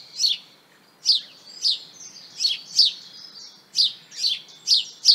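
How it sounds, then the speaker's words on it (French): A house sparrow in a garden gives a series of about ten very brief, unmelodious chirps in an uneven rhythm, clear and fairly close, with no other sound. "Le chant du moineau consiste en une suite de piaillements très brefs et peu mélodieux."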